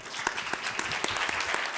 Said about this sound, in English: could you please give a round of applause to the panel?